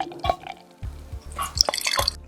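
Coors Light beer poured from a can into a glass, with close splashing and dripping liquid, a few separate glugs and trickles, and some fizzy hiss near the end.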